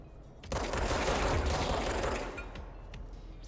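Shotgun fire in the video game Control: a sudden loud burst of gunfire and rattling combat noise that sustains for about two seconds, then tails off into quieter background clatter.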